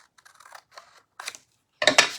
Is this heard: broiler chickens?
no